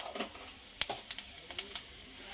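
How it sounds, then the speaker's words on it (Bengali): Panch phoron spices hit hot fish-frying oil, giving a quiet sizzle with sharp, scattered crackles and pops over a couple of seconds, close by and without talking. "মাছ ভাজা তেলের মধ্যে দিয়ে দিচ্ছি 1 চামচ পাঁচফোড়ন"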